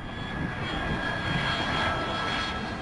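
An MD-82 jet airliner with two rear-mounted engines in flight, a steady, even engine roar with a faint high whine, continuous and unbroken throughout.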